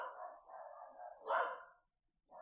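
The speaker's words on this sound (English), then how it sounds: "Dogs, gotta love them." A dog barks in a drawn-out, muffled run of barks and yips, moderately faint and at some distance, pausing briefly before another bark begins.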